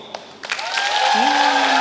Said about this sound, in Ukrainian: З вас оплески, з мене монолог.